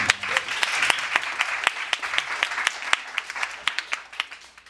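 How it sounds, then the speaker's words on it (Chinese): Audience applause from a live performance of an Amis song, a dense burst of many hands clapping that thins and fades over a few seconds. "给你们掌声鼓励"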